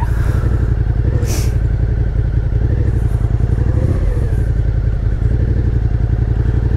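A Ford Mustang GT500 rolls past at a car cruise with a loud, close, rhythmic low engine burble that pulses steadily, joined by a brief hiss and some clattering.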